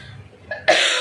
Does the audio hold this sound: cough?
yes